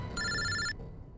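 A telephone gives a single short electronic ring, faint and lasting about half a second, with low background rumble around it.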